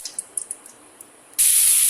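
Chopped tomato, onion, ginger and garlic dropped into hot oil for chicken kulambu. A few quiet clicks and taps come first, then a sudden loud, sustained sizzle bursts up and continues to the end.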